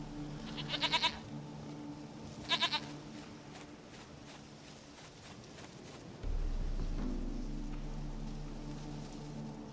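Goat in The Witcher 3 bleating twice in quick succession, short quavering cries near the start, followed by quiet ambience and a low rumble rising later.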